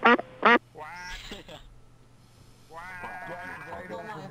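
Two short, loud quacks from a duck in a prop hunt video game start the clip. Players then talk and laugh over it, with quieter chatter following.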